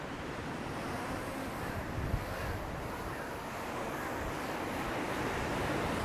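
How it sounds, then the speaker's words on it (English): Strong wind of about 55 km/h roars steadily and buffets the microphone, producing a broad, continuous rushing noise with slight swells throughout. "the wind gusts are very strong"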